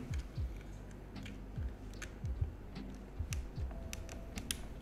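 Keystrokes on a mechanical keyboard tap out in irregular quick bursts, close and fairly quiet, with a faint low hum in the background.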